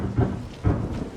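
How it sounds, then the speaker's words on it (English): Low rumbling thunder and rain in the Resident Evil 7 game, two deep swells of rumble over a steady wash of rainfall, close and moderately loud. "it's gotten darker and it started to rain."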